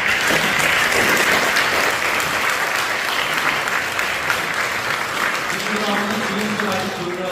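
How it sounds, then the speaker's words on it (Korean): Audience applauding to encourage young guests from a youth school, dense sustained clapping at close range, with a voice speaking underneath toward the end as the clapping fades. "우리 격려의 박수 부탁드립니다."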